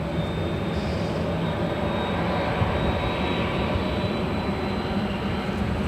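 An Asiana Airlines A350 jet airliner arrives at LAX, producing a steady, loud, broadband engine roar with a thin high whine, continuous throughout with no talk.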